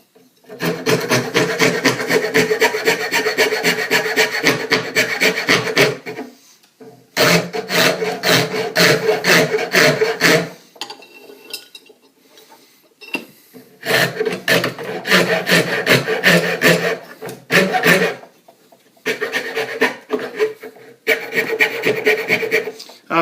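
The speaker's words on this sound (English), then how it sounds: "Give something for your rasp to ride in." A rasp shapes the underside of a wooden Windsor chair seat in long, loud, rhythmic grinding strokes, with runs of several seconds broken by short pauses and no talk.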